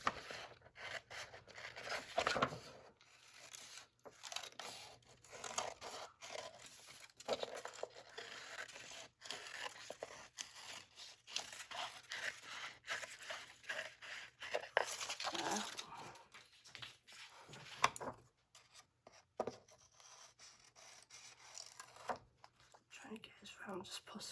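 Scissors cutting paper pages for a handmade cake book, a run of soft, close snips and rustles that stops briefly now and then.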